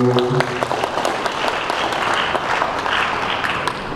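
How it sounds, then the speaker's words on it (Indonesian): Guests applaud at a church wedding blessing after the ring exchange, a full burst of many hands clapping at once, loud and close, holding steady throughout with a faint voice underneath. "Tepuk tangan Bapak Ibu."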